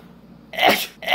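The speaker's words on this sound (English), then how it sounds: "I just had to sneeze." A single sharp sneeze from a person, preceded by a short quiet intake and followed by a brief trailing exhale, loud and close.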